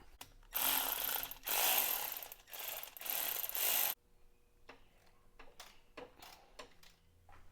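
A ratchet loosening bolts on a supercharger cog belt pulley of a supercharged G37/370Z, heard as several loud bursts of rapid clicking close by, followed by quieter scattered clicks and taps.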